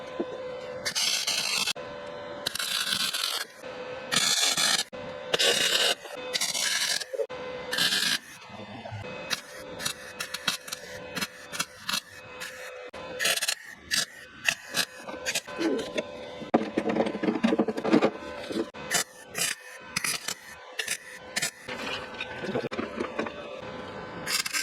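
Tack welding rock sliders onto a Jeep Grand Cherokee WK, with short loud bursts of crackling arc welding separated by gaps, rapid and repeated, then denser crackle and scraping later on.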